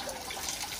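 Water splashes and trickles continuously and fairly close while Himalayan bear cubs are being bathed, a brief, even watery wash with no voices.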